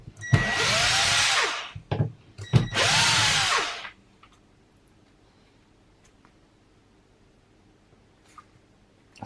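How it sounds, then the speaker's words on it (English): A power drill driving screws into wood at a DIY event, two loud sustained whirring bursts with brief pauses between, followed by near silence and faint small clicks. "So I could screw them in now without using clamps"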